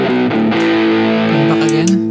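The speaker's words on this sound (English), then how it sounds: "So if I press this one, automatically I'm in distortion mode." A distorted electric guitar, played through a Headrush MX5 multi-effects unit in distortion mode, holds sustained notes and a few sliding bends, loud and close, with a thick, saturated tone.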